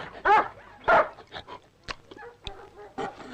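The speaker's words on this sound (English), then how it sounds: "He's one mean dog." A dog in a rugged frontier setting gives a few sharp, loud barks close by, spaced irregularly with short gaps, alone without talk.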